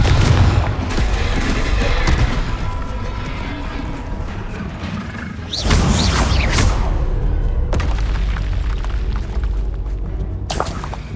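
Spell explosions and combat effects in Hogwarts Legacy, with the Confringo fire spell among them: loud, dense booms and mechanical crackles that fill the whole stretch, with sharper bursts near the middle and end.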